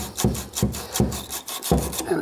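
Copper pipe scraped by a pipe cleaning and deburring tool during a copper-to-PEX conversion, four close rasping strokes in a steady rhythm, each a short gritty rub.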